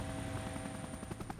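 Overloaded Huey helicopter carrying 22 men taking off along the ground like an airplane, a steady close engine and rotor drone with rhythmic blade pulsing throughout, no voices.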